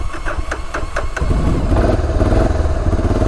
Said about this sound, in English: first ride ever on the Honda Fourtrax 4x4 350cc. So far it seems like it's running pretty good